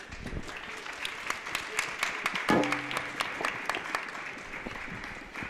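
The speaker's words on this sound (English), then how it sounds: "perhaps we'll give you all a nice round of applause" Audience applause at an environmental policy conference session, a moderate round of clapping from a roomful of people lasting several seconds.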